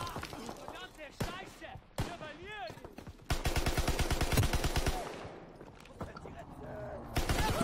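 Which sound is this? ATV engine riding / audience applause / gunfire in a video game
gunfire in a video game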